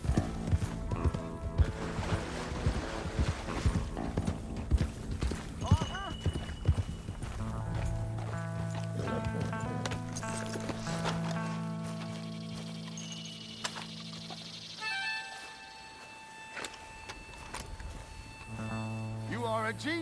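Horse hooves clip-clopping at a fast gallop with occasional neighing in the Red Dead Redemption 2 video game, layered under game music and character speech, the hoofbeats strongest early then thinning out.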